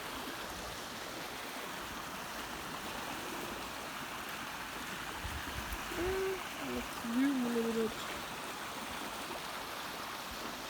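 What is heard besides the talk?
gushing water of a stream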